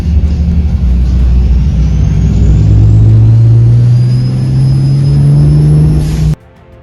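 6.7 Cummins diesel in a second-generation truck swap with an S400 turbo, a loud, close engine roar with a rising turbo whistle building over several seconds before cutting off abruptly.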